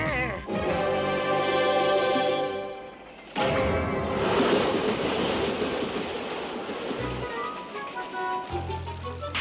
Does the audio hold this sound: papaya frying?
no